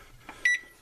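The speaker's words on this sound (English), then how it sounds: "then I'll set the timer for" An oven timer being set gives a single short electronic beep, clear and close against a quiet kitchen background.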